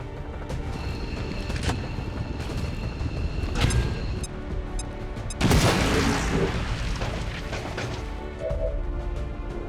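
A grenade detonates in XCOM 2, a loud broadband blast bursting in mid-clip amid other crashing impacts and booms, with steady game ambience around it.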